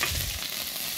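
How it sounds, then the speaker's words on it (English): Crushed ginger stir-fried in very hot oil in a wok, a steady close sizzle and crackle with stirring scrapes, loud and continuous for about a second with no talk. "So this is stir-frying, okay? So you're frying, you can see the heat, and we're stirring."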